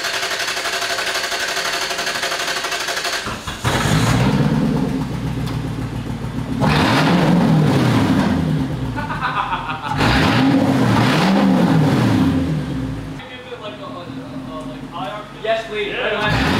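Lexus LS430 with a freshly installed straight-piped exhaust revs hard several times, loud swelling bursts rising and falling up close, with excited voices talking and reacting over and between the revs.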